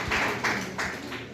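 Audience at a literary conference in a college campus hall gives a brief burst of welcoming applause for a special guest, a few quick waves of clapping close together with no talking.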